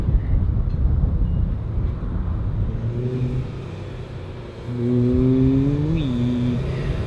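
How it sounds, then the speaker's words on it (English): A second car approaches and arrives outside, its engine rising and swelling louder midway, with a pitch climb and drop near the end, set against a steady low rumble of background traffic or an idling vehicle. "I hear another car."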